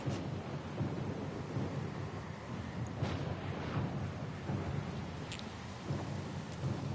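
A thunderstorm rages in the fantasy role-playing game Pillars of Eternity 2, with steady heavy rain and low rolling thunder that swells several times, loud and continuous throughout.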